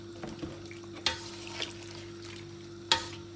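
A pepper preserve mixture being stirred in a pot at home, with soft scraping and sloshing under a faint steady hum, punctuated by a few sharper clinks of the spoon against the pot.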